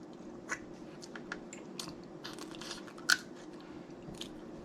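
Snow crab legs being eaten up close: scattered crunchy bites and cracks of shell, with one sharp loud snap, mixed with soft wet chewing and sucking sounds.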